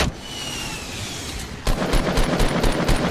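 Gunfire in a Fortnite 50 v 50 match: quiet ambience, then a sudden burst of rapid, evenly spaced shots that continues loudly to the end.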